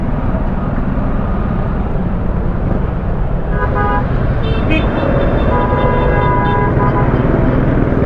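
A car horn honks in city traffic in Mindanao, several toots in the middle and later part of the clip over constant engine and road rumble, with people talking.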